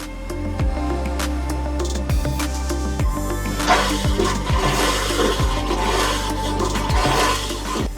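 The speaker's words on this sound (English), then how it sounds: "will commonly add water by lifting the lever and flushing by pushing the lever down" A vacuum toilet on a motor yacht flushes with a steady rushing of water, punctuated by repeated low gurgling pulses and a constant mechanical drone, close by with no talking.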